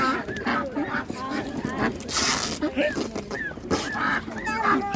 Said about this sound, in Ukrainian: Це цікава велика качка.